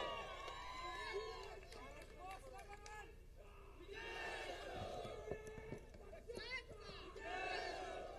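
A large crowd at a political rally in Latur roars and shouts in sustained waves of cheering, loud and dense, with a speaker's amplified voice carrying over the noise.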